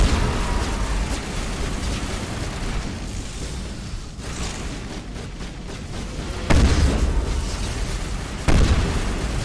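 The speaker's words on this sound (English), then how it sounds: "I suppose I can stop them from exploding if I shoot fast enough" Enemies blowing up during combat in Mass Effect 1 Legendary Edition, with two sharp, loud bursts landing late over a constant rumble of noisy in-game battle sound.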